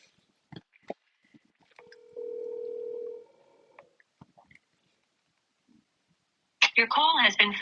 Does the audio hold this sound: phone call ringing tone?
yes